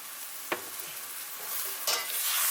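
Pickled bitter melon is stirred in a hot pan, with a couple of sharp utensil scrapes against a steady sizzle of frying that grows a little louder.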